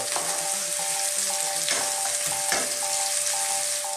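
Onion and tomato sauté in a pan with a constant crackling sizzle, while a utensil stirs with a few soft scrapes and knocks; a faint repeating electronic beep runs underneath, with no talking.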